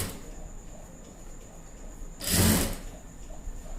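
A sewing machine runs a short burst of stitching on a blouse lining, a brief close mechanical whir lasting under a second against quiet room background.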